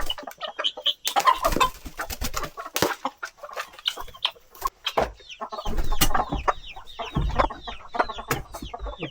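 Heritage chickens on a small farm cluck and chatter continuously, with overlapping bird calls and occasional sharp knocks and rustles nearby, a busy, close flock sound with no talk over it.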